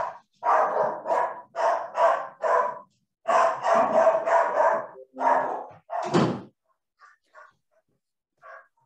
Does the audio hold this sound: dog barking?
yes